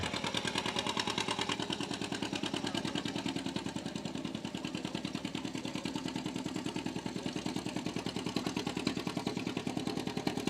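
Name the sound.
John Deere G tractor engine at a tractor pull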